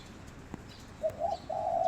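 A pet dove coos softly at close range, giving a few short low coos and then a longer sustained coo near the end over a quiet background.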